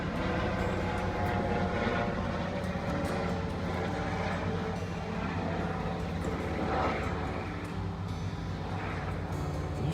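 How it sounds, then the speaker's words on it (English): An airplane passes overhead outside a garden center, its engine drone steady and moderately loud for the full stretch, swelling slightly at moments, with no talking. "And we got an airplane."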